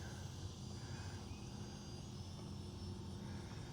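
A UMX Micro Draco RC scale plane flies overhead outdoors, its small electric motor giving a steady, fairly faint whine that shifts slightly in pitch as it passes, with no talking.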